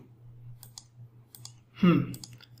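A computer mouse clicking on buttons in a web page, a few faint, light clicks followed by a louder brief handling sound, with a quiet background hum.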